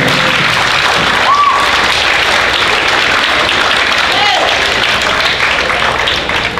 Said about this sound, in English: Students, give your parents a round of applause, please.